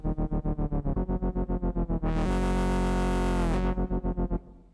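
A buzzy, distorted synth lead pulses in rapid repeated notes, then swells into a sustained, washed-out tone with heavy reverb before pulsing again and fading.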